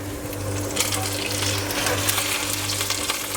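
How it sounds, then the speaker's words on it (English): Meat searing in duck fat with garlic makes a close, steady sizzle with crackling spits and a low hum underneath, heard with no voices over it. "all you need now is just a nice light sear"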